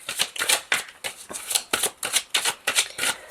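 Oracle des miroirs cards being shuffled and drawn by hand, a quick run of crisp papery riffles and flicks in steady bursts, close and fairly loud with no talking.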